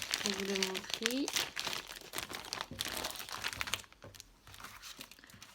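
An AliExpress package is torn and opened at close range, with crinkling plastic and paper rustles under a woman's speech, then quieter handling.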